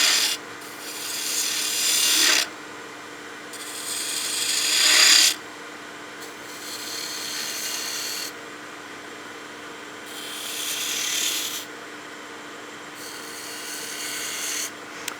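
A spindle gouge with a 35-degree long-bevel grind cuts a small cove into wood spinning on a lathe. Repeated rasping scrapes of a few seconds each are separated by the steady hum of the turning lathe, with no talk.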